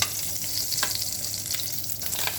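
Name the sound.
shrimp frying in a pan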